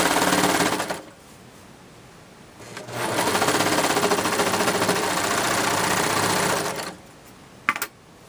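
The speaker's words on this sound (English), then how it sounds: "You have to stretch the rib trim as you're sewing." A sewing machine stitches stretched rib trim onto a tea towel bib in two rapid, rattling bursts, the second running about four seconds, separated by quiet pauses, with a small clunk at the end.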